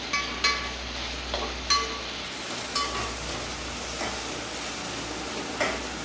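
Garlic chutney masala is stirred in a pan for an okra curry: a quiet, steady sizzle with a few spoon taps and scrapes spaced a second or so apart.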